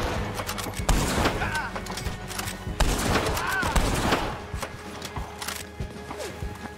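Repeated shotgun blasts ring out in Red Dead Online, several sharp bursts spread across the stretch amid busy gunfight noise, with a voice talking over parts of it.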